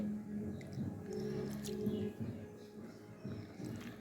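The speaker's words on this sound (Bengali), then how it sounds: "হালকা হালকা জল দিয়ে খুব ভালোভাবে সানবো।" Gram flour (besan) is worked with a little water into a thick paste, making soft, wet squishing and dabbing sounds close up, in irregular bursts against faint background noise.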